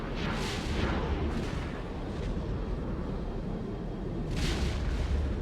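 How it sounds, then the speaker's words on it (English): Venator-class turbolasers firing in the X4 Star Wars game, a sustained roar of heavy booming blasts that swells at the start and again near the end over a dense rumbling battle backdrop. "We're gonna disarm and rearm our turbo lasers again so we can get them to start firing"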